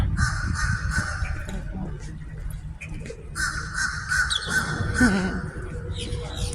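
A crow caws repeatedly under a bridge after a hurricane, loud harsh calls in two bursts with a short pause between, over wind-like low rumble.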